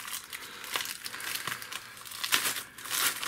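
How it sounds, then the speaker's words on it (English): A plastic packaging bag holding a talking clock electronics kit is cut open with scissors, giving close, irregular crinkling and tearing rustles with a few sharper crackles and no speech. "can't even get into the bag without breaking it"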